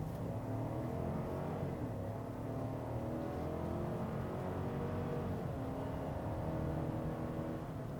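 A 2021 Chevy Tahoe accelerating to 60 mph, heard from inside as a steady low engine drone and road roar that holds throughout, with no talk.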